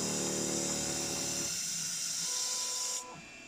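A CNC mill spindle runs steadily while milling a stepper motor mount on an MM25L mill, a loud constant whine and hiss that shifts midway and then drops off sharply near the end as it winds down.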